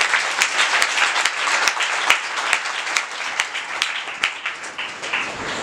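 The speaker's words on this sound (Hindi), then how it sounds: "ताली यीशु के लिए" A church congregation claps for Jesus during a worship service, with a lively wash of applause and sharp individual claps popping out at irregular moments before it thins out at the end.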